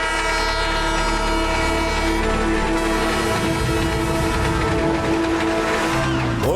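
A cartoon train thunders along with a loud, sustained multi-tone horn blaring over a dense, steady rumble of rolling wheels, all close and loud throughout.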